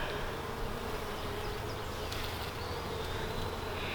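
A dense, steady drone of many honey bees buzzing close by at a hive during an inspection, continuous and even throughout with no other sounds.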